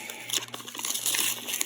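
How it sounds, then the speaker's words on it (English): Wrapping paper crinkles and tears as a wrapped book is opened one-handed, close-up bursts of crumpling and rustling in quick irregular handfuls. "one-handed unwrapping, yes"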